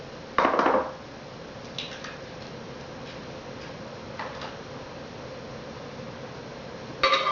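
A mixing bowl is handled and put away, with a sharp clatter at the start, a few faint light knocks in the middle and another brief clatter at the end over a quiet room hum.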